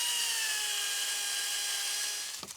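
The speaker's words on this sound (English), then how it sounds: "then cut them to length with my chainsaw by following the angle of the arch underneath" A chainsaw cuts wooden timbers to length for a boat shelter roof, a steady high whining drone with a falling pitch that ends as the cut finishes and a brief clatter follows.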